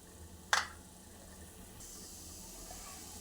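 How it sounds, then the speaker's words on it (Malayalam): Mustard seeds hit hot oil in a pan with one sharp, loud burst of spitting, followed by a softer, continuous sizzling hiss. No voices are heard. "കടുക് കൂട്ടിയിട്ടുണ്ട്"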